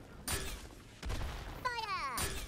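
Bazooka blasts in the cartoonish game Worms W.M.D: several sharp bursts with a short swooping whistle between them, mixed with other game sounds.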